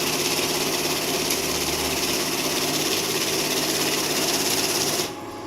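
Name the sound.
multi-currency note counting machine running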